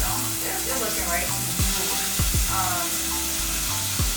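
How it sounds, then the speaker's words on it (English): Tomatoes hit a pan of sizzling onions for a Kenyan dish, giving a steady close frying hiss with a few sharp clatters and stirring knocks of a utensil against the pan. "So now we're adding the tomatoes."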